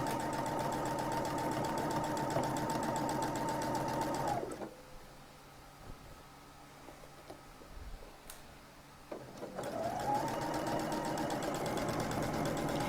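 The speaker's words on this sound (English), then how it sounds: "what I'm sewing right now is going to be covered" A sewing machine stitches a shirt collar in a steady fast whir, stops for about five seconds of near quiet with small handling clicks, then starts up again and runs on at the same even pace.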